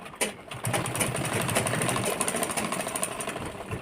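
A sewing machine stitches the puff sleeve of a netted blouse, running in a steady, rapid mechanical whir that carries on for several seconds after a short start.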